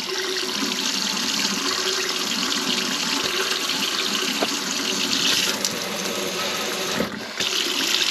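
Water runs steadily from a Moen faucet just fitted with a new cartridge, a continuous close hiss and splash into the sink with a brief dip near the end.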